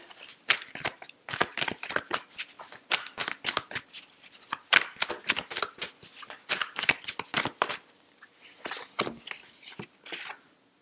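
Yogic Path oracle cards being shuffled and drawn, a crisp run of riffling card flicks and slaps up close, bunched in quick bursts with brief pauses and no speech.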